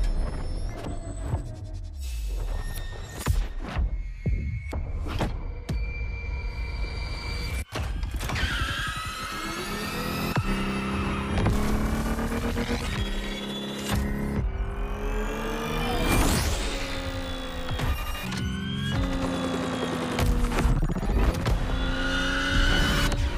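Lotus electric car driving in The Crew Motorfest game, a rising and falling electric motor whine with tire squeals and skids over steady road and wind noise, loud and continuous.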